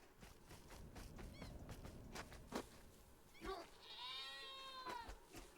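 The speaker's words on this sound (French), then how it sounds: "On entend quelqu'un qui gueule, ça ouais, une chèvre" A goat in the video game Baby Steps bleats faintly over steady outdoor ambience with footsteps, its wavering cry coming through near the end after some scattered knocks and rustles.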